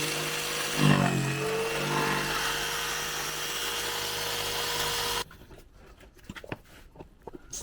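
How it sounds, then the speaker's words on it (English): A power jigsaw buzzes loudly and steadily while cutting a socket-shaped hole in a camper's panel, then stops, leaving quieter clicks and handling noises. "Now we need to get the jigsaw."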